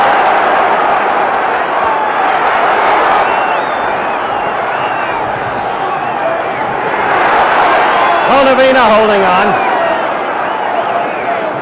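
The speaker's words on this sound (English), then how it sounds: "Crowd alive for a change" Boxing crowd cheering during a Muhammad Ali bout against Bonavena, a loud continuous roar of many voices that swells near the end, with a commentator talking over it.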